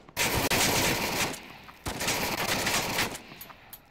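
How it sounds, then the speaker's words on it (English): Automatic rifle with an ACOG sight fires in Onward VR: two long, loud sustained bursts of rapid gunfire, separated by a brief pause, with no talk. "machine gun with ACOG, not a good idea"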